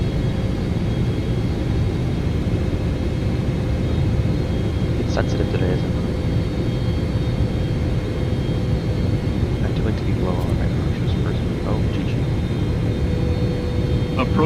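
A FedEx heavy jet's engines in Microsoft Flight Simulator 2024, a constant loud drone on a three-mile final approach, with someone talking and brief cockpit callouts and tones over it.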